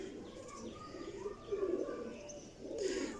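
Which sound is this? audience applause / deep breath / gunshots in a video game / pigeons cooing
pigeons cooing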